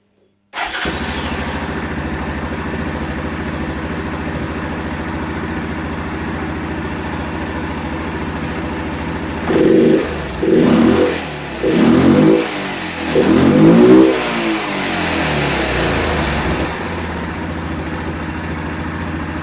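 A motorcycle engine starts and settles into a steady idle, then is revved in four short bursts before dropping back to idle, loud and close with no talk.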